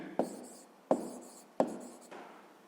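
Handwriting with a pen on paper while working a sixth-grade maths exercise, three short scratchy strokes with soft scribbling between them, faint and close, with no speech.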